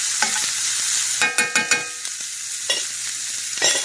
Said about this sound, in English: So we're just going to saute this onion.